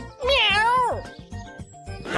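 A voice imitates a cat's meowing with a long, rising and falling mew followed by a few shorter meows, close and clear.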